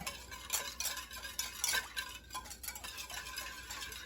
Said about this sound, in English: All right, so I'm just whisking it.